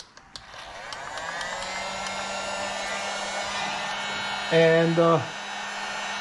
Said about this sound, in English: So I'm going to grab my heat gun. We're going to plug it in. And we're going to heat up